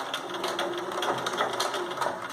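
A sewing machine runs steadily, stitching a seam in fabric for a drawstring bag, its needle making a fast, even mechanical pulse at close range with no pauses or voices.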